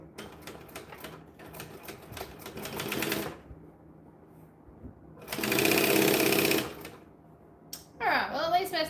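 A sewing machine stitches bag pieces in two bursts of rapid, even clatter, the second louder and longer, with short pauses between runs and a faint voice nearby.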